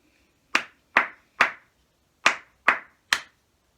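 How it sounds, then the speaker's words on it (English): Six sharp hand claps in a quick rhythm, three then a pause and three more, close and clear with no talking, during an infant-school lesson. "You should have clapped it."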